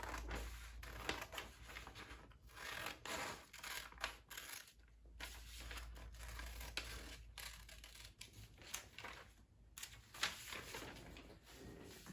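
Scissors cutting out a paper list, quiet close snips in an irregular run with soft paper rustles between cuts.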